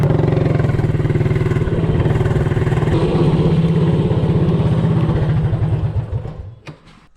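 An MB200 minibike engine with stiffer 18-pound valve springs revs hard and close, a loud buzzing putter that holds steady while accelerating, then fades away over the last second or so.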